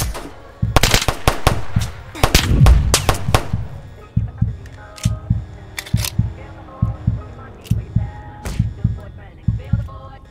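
Gunfire in the video game Tha Bronx 2: a flurry of sharp, loud shots and cracks early on, then a steady run of evenly spaced lighter pops, all close and clear.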